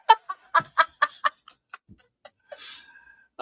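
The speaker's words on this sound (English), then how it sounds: "There's a lot of chickens." Chickens clucking: a quick run of five or six loud, close clucks in the first second, then scattered softer calls and a brief higher squawk.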